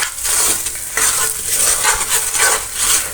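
Masala for paneer kofta curry frying and being stirred in a pan, a steady loud sizzle with repeated scraping strokes of the spoon throughout, no voices.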